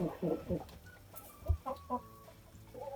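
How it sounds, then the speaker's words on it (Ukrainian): A young Livny calico hen clucks in short soft bursts close by, several clucks spaced through a few seconds with quiet background. "Це молоденька курочка."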